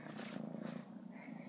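A pet cat purrs up close while cuddling against a person, a soft steady rhythmic rumble that continues for a second or so with no talking over it.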